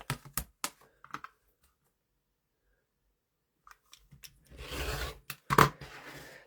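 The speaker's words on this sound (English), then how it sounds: "I do want to trim these before I press." Scissors trimming fabric quilt pieces, with a few quick snips and clicks at first, a long quiet pause, then a louder stretch of rustling and cutting near the end.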